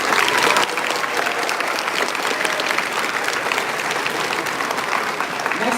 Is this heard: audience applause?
yes